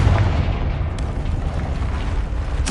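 A Confringo fire spell from the Hogwarts Legacy game erupts in a sustained, loud, rumbling blast. A deep booming roar fills the whole stretch with no voices over it.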